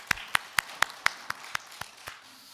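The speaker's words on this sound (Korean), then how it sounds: "우리 박수하겠습니다." A church congregation claps in an even, steady rhythm, about nine distinct claps spaced roughly a quarter second apart, moderately close and fading slightly toward the end.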